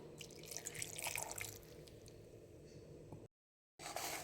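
Water pours and trickles into a mixer jar holding about a dozen pieces of fresh ginger for a pea curry masala, close and steady with small splashes, then cuts out briefly before resuming.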